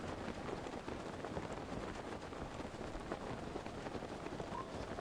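Steady in-game rainfall from Zelda: Breath of the Wild, a continuous even hiss of drops with a faint low rumble, holding at a constant moderate level throughout with no speech.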